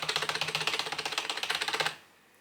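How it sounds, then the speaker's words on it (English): A mechanical keyboard at a gaming setup clacks rapidly in a steady burst of about thirty crisp keystrokes, close and fairly loud, then stops abruptly into quiet. "So I can type like this."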